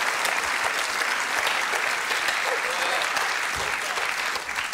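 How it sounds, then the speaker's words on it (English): A studio audience gives sustained, lively applause, a continuous roar of clapping with a few faint voices underneath. "a special round of applause for who I presume is the inevitable winner, Mr. Tim Key"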